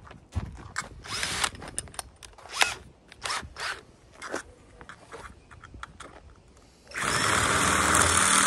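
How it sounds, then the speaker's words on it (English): Power drill boring a hole through the polished aluminum bottom of a can, intermittent short bursts of grinding and whirring, then a loud continuous harsh drilling run near the end. "I'm gonna get a drill bit and see if we can drill it out and make it round."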